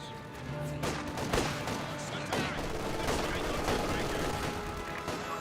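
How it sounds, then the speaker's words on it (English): An MG42 machine gun fires at Soviet Combat Engineers in the Company of Heroes 2 real-time strategy game, a steady run of loud, sharp bursts and cracks layered over a dense, continuous battle din for several seconds. "MG42 firing away against Comm Engineers"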